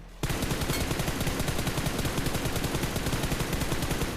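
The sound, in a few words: gunfire in BGMI video game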